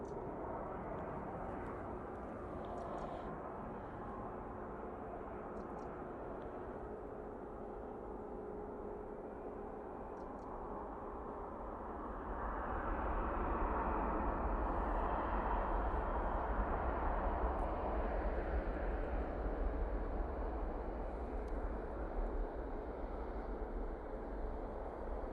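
A Boeing 787-9 Dreamliner arriving at Manchester Airport from Punta Cana produces a broad distant roar that swells louder about halfway through and holds, heard from outdoors with no talking.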